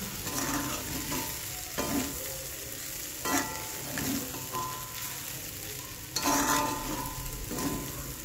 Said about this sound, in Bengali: তো এরপরে ভাতটা দিয়ে ভালো করে নেড়ে নেবো